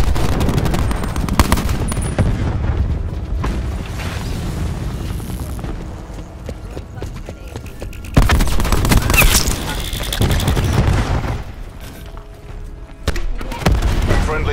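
A cluster grenade goes off in Call of Duty: Black Ops 4 amid loud, close, repeated booming blasts and rattling gunfire, with bursts surging and fading across the chaotic battle din.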